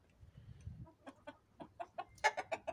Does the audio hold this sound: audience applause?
no